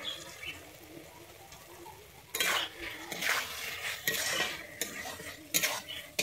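Fried pointed gourd (potol) stirred and sautéed in a pan for a vegetarian potol korma, with scraping spoon strokes and clatter of utensils after a quiet start, over a faint sizzle.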